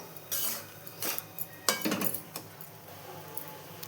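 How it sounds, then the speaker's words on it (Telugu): Rava laddu mixture with fried cashews being mixed in a bowl, a few sharp metallic clinks and scrapes of a spoon against the bowl in quick, uneven bursts, close and clear with no voices. "వీటన్నిటిని బాగా కలుపుకోవాలి, అన్నీ కలిసేటట్టుగా"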